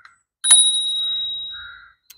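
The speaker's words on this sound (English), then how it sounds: "You've got a bell." A bicycle bell on a folding e-bike gives one bright, close ding that rings on and fades over about a second and a half, followed by a faint light tap.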